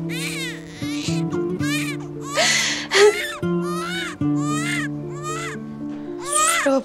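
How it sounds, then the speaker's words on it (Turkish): An infant cries up close in a continuous series of wailing, whimpering bursts with gasping breaths, over a steady low background hum, with no talking. "Karnın da doydu bak. Ağlama artık, içlerin parçalandı lütfen."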